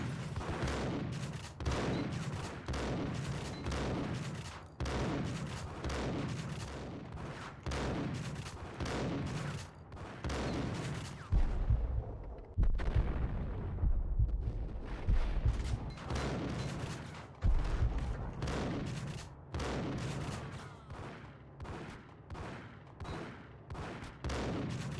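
Shotgun gunfire in the video game Max Payne: a rapid string of sharp, loud blasts with a heavy boom partway through, then more shots in quick succession, with no talking.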